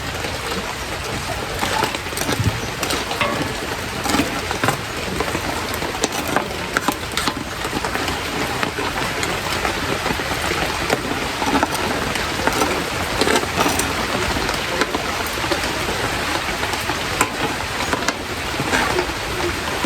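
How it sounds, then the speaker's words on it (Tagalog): Rain falls steadily throughout, a continuous patter of drops on a hard surface with frequent sharp close taps. "Ulan po dito"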